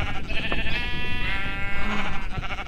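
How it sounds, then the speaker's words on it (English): A sheep bleats in the video game Luigi's Mansion, one loud, close, wavering cry that stretches over a couple of seconds against a busy game background. "Flying sheep!"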